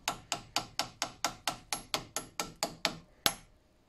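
Hub bearing being hammered into the hub of a Stels ATV, a dozen or so sharp metallic blows struck at a steady quick rhythm, close and loud, then one last harder hit after a short pause.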